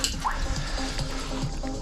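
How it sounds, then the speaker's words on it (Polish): Water running and dripping into a tank while temporary drain pipes are backfilled; a steady close trickle with scattered drips and small splashes. "niech się jeszcze woda dolewa"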